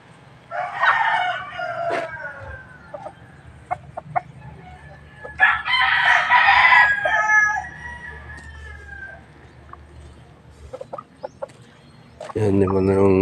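A rooster crows twice, loud and close, in a backyard among scattered clucks and rustling, with a harsher buzzing noise at the very end.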